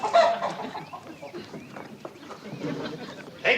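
A chicken clucks in short bursts close by as people talk, aboard a small passenger vehicle giving scenic rides.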